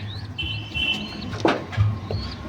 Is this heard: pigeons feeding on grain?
yes